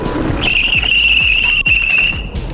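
A sharp, high-pitched electric bicycle brake squeal under hard braking, lasting under two seconds, loud over steady road and wind noise.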